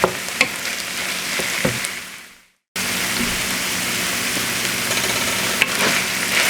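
Ground beef frying in a pan, a dense continuous sizzle with occasional utensil taps, broken by a brief drop to silence before the sizzling resumes at full strength.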